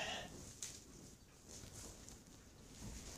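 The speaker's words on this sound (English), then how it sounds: "These lambs are adorable." A young lamb gives faint, soft bleats nearby over a quiet farmyard background.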